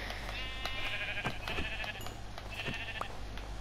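Several wavering sheep bleats in Minecraft Bedrock Edition, one after another, over a low steady background with occasional soft clicks and thumps.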